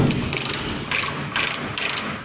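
A hand ratchet works loose 21mm bolts on a truck axle, giving steady rapid clicking in about four bursts, loud and close with no talking.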